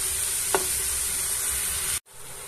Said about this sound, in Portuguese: estamos dando uma mexida para absorver todos os temperos